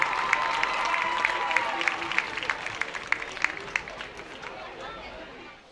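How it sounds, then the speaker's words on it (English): Brief applause for the cheer teams at a spring high school football game between B.B. Comer and Sylacauga, with a crowd clapping steadily and gradually fading, mixed with scattered chatter and some cheering. "let's give both cheer teams a big hand"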